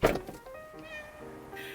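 A cat climbs out of a cart with a sharp thunk, followed by a short, faint meow-like cry close by.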